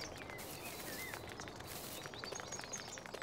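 Birds chirp in the Farming Simulator 19 video game: faint, scattered tweets and short calls sit over a steady outdoor ambient hiss, with light patter underneath and no voices.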